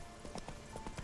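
Horse hooves clip-clop in The Witcher 3 video game, a quick run of light, close hoofbeats in an even trotting rhythm over about a second.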